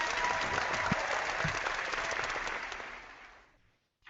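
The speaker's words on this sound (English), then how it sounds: "I just forgot to do the applause button." Canned applause sound effect triggered from a button on a podcast, a dense burst of crowd clapping that holds steady and then fades out over about three seconds, with no talk.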